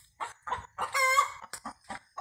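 Farmyard chickens clucking and a rooster crowing on a rural homestead, with a burst of short clucks around a sustained crow, fairly close and moderately loud.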